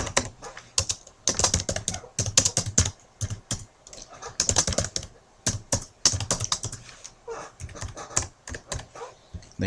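Typing on a computer keyboard to enter an address, quick irregular bursts of close, crisp key clicks with short pauses between, no voices.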